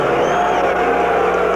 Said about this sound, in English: Boy, the boos are resounding.